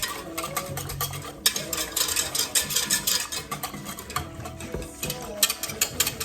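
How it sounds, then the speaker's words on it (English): A whisk turns and scrapes briskly inside a metal pressure cooker pot while a goose meal is cooked, producing rapid, busy rattling and clinking strokes up close that carry on steadily with brief pauses. "Just taking my whisk, really getting it turned in there."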